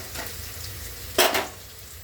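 Green chilies frying in oil in a pan for avarekalu chitranna, a close steady sizzle broken by a loud burst of spattering midway and a short clink near the end.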